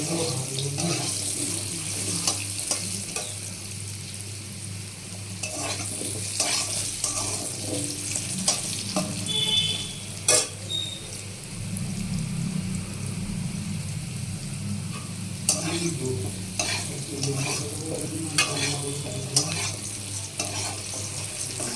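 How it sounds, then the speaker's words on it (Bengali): Potatoes frying in a pan, a soft continuous sizzle close by with occasional stirring clinks and scrapes, fairly quiet and with no one talking. "আলুগুলো ভেজে নিচ্ছি।"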